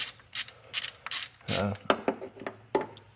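A ratchet works loose an alternator bolt on the engine block of a 2011 Chevy Impala 3.5, with bursts of quick clicking strokes repeated several times close up, plus a few mechanical clanks and no speech.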